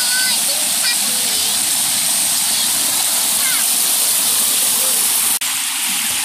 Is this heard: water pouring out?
yes